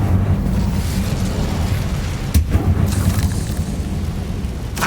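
A fire spell blast in Hogwarts Legacy: a loud, sustained roaring rush of flame with a couple of sharper bursts partway through and near the end. No voices are heard.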